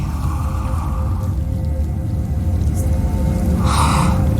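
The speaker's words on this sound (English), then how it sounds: "It's breathing." A creature's heavy, rasping breathing in Hellblade: Senua's Sacrifice, deep and close over a low droning rumble, with a sharp breathy gasp near the end.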